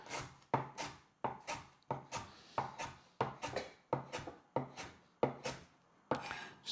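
A knife chops lemongrass on a cutting board in about a dozen crisp, evenly spaced strokes, close and clear with nothing else heard.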